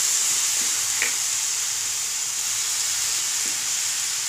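Marinated chicken sizzles steadily in a teaspoon of oil in a pan while making homemade chicken shawarma, a constant close frying hiss with a couple of faint stirring clicks and no talk.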